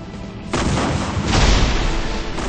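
A loud, deep Big Bang explosion sound effect booms and rumbles, surging in two heavy waves of broadband roar that fill the whole short stretch.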